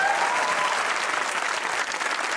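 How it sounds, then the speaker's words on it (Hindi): A studio audience on a Pakistani comedy talk show applauds, a dense, steady wash of clapping hands that holds at full strength throughout. "तालियां होनी चाहिए, बहुत अच्छा खेला आपने।"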